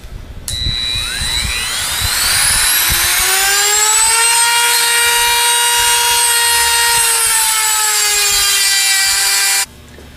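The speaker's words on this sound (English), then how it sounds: "We're going to turn it to the other side and cut the other outside half of the race" High-speed rotary cutting tool grinding through the outer bearing race of a Bosch alternator from a Dodge truck, a loud shrill whine that rises in pitch, holds steady for several seconds, then stops abruptly.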